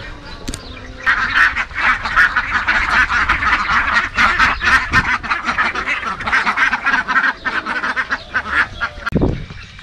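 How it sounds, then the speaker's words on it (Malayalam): Flamingos at a farm in Ras Al Khaimah keep up a dense, honking, goose-like chorus of overlapping calls, moderately close and steady for the whole stretch. "ഫ്ലെമിംഗ പക്ഷിയാണ്"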